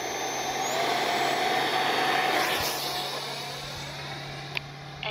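A 50mm Arrows RC Viper electric ducted-fan jet launches outdoors with a steady, loud, whooshing fan whine that swells and then eases slightly as it pulls away, with a brief tap near the end.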